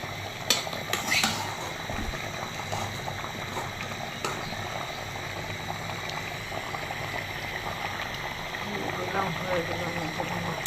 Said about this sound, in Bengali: এখন মাছ দিয়ে দিচ্ছি।